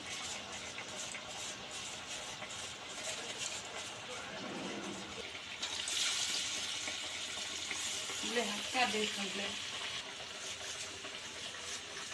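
Bottle gourd fritters (sorakayya garelu) fry in hot oil in a kadai, giving a soft, continuous sizzle. The sizzle swells briefly partway through as batter drops in, and a speaker's voice runs over it.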